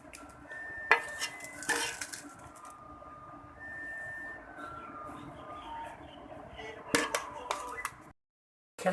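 Chicken biryani being served from a cooking pot onto a plate, with repeated metallic clanks and scrapes of a spoon against the pot and plate, several sharp clatters standing out over a steady background hum.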